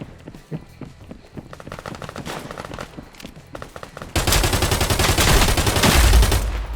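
Gunfire in Contractors Showdown, a VR battle-royale game, starting as scattered shots and building into a loud, dense automatic burst near the end.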